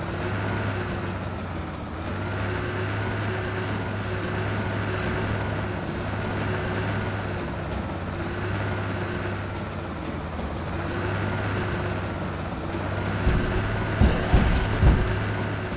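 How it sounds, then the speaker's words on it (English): A helicopter passes overhead in the zombie survival game Project Zomboid, a steady droning engine and rotor hum that holds level throughout, with a few sharper knocks near the end. "I'm gonna wait for this helicopter to finish before we head back."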